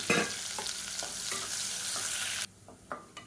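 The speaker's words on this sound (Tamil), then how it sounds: "பொடியாக கட் பண்ண வெங்காயம் சேர்த்துக்கலாம்." Finely chopped onions fry in oil in a cooker for Indian-style egg thokku, giving a close, steady sizzle with a few stirring scrapes before it abruptly drops to quieter crackles.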